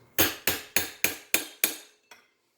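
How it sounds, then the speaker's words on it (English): Six sharp metallic hammer strikes in an even rhythm, hammering over a notch on a nut to lock it on a Raptor clutch basket assembly, each ringing briefly, followed by a lighter seventh tap and silence. "There's a notch spot to hammer over on that nut to lock it in place."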